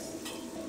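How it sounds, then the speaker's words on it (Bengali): Onions going into hot oil in a pan, a soft steady sizzle and stir close by, fairly quiet, no voices. "আমি প্যানে তেল দিয়ে দিছি, এখন পেঁয়াজ দিয়ে দিচ্ছি।"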